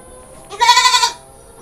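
A single Etawa goat bleat, a loud wavering cry lasting about half a second, close by against a quiet background.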